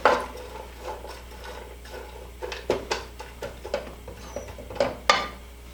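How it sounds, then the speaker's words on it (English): Celery, half an onion and other vegetables stirred in a pot over medium heat for chicken gnocchi soup, giving soft scraping and clinking with several sharper knocks against the pot. "Get all this stirred up."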